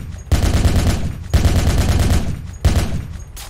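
Automatic gunfire from a rifle emptying its remaining ammunition in Project Reality, the Battlefield 2 mod: three loud, close bursts of rapid shots separated by brief pauses.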